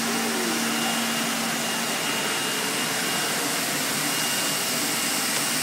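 An Insinger tray washer's blower dryer pushes a plastic hospital tray past its air blades, making a loud, steady, broadband rush of blown air that holds constant throughout, with a faint tonal hum underneath and no talking.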